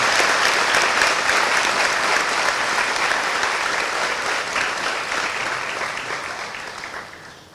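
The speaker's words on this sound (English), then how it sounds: "let us welcome Honorable Minister Okudzeto Ablakwa to the Ministry of Foreign Affairs with a round of applause" A full round of applause fills a Ministry of Foreign Affairs welcome ceremony for Honorable Minister Samuel Okudzeto Ablakwa, steady dense clapping from a crowd that gradually thins and fades toward the end.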